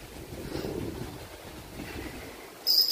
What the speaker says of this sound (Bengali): এই দিক দিয়ে হাওয়াটা দিচ্ছে তো, আর হাওয়ার সাথে সাথে বৃষ্টি পড়ছে, এক ফোঁটা দু ফোঁটা করে